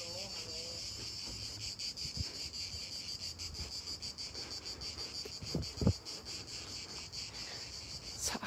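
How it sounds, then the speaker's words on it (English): Cicadas drone in a continuous, even high-pitched chorus along the ancient Appian Way outside Rome, faint and distant beneath light wind, with a few soft thumps and footstep-like knocks nearby. "Oh, listen to the cicadas."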